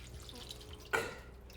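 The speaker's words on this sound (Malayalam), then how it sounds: "ഇനി ഇതിൽ കുറച്ച് വെള്ളം." A short splash of water poured into a cooking pot while smoked pork ribs are being prepared, a single brief burst standing out over quiet kitchen background.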